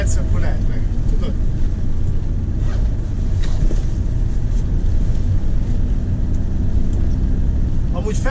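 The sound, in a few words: motor boat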